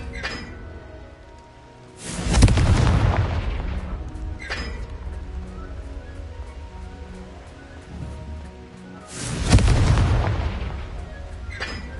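Explosive spell blasts in Hogwarts Legacy, two big booming bursts with rumbling decay over a continuous game soundscape, plus a lighter crack between them.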